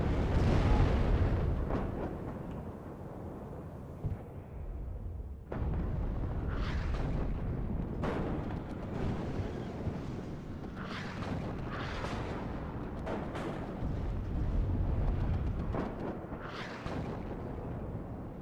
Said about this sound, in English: mortar shots coming in on all those units at the front